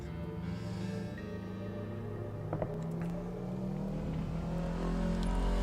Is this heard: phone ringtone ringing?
no